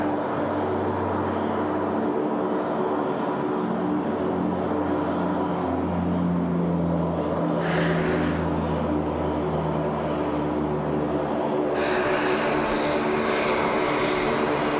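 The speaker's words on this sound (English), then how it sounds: "The Dash 8 getting away here at runway 16 right." A Dash 8 turboprop airliner takes off at night from Sydney Airport runway 16 right, its loud, sustained engine and propeller roar filling the air with a steady drone that surges and shifts in tone as it climbs away.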